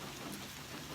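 Steady rain falls at a campsite reached by a dirt road, a dense even hiss of drops filling the whole moment at low level.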